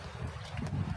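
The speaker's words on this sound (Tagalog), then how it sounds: "we can hear the swooshing of the wind" Wind sweeps steadily across an open area on an island, a low continuous rushing with some buffeting against the microphone, moderately loud and with no voices.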